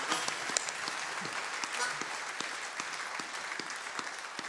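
Audience applause at the UK Blues Awards, a dense and steady clapping from a crowd that holds at moderate volume throughout with scattered sharper claps.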